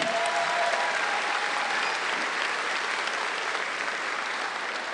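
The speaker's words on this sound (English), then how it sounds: "you can give that applause for all our nurses" An audience at a 2019 college graduation ceremony applauds for nursing graduates, dense sustained clapping from a large crowd that fills the whole stretch evenly.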